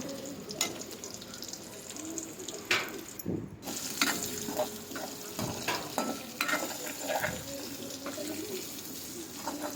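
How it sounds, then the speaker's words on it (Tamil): Onions fry in a pan with a soft, steady sizzle, broken by stirring scrapes and clatters close by, and no one speaks. "இப்போது வெங்காயம் போட்டுடலாம். வெங்காயம் வந்து நல்லா வேகணுங்க."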